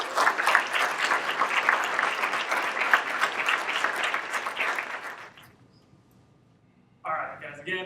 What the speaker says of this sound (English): Why don't we give them a round of applause?